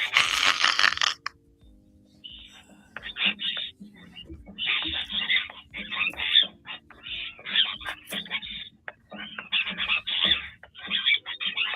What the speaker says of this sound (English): That's all the happy jacks making that noise.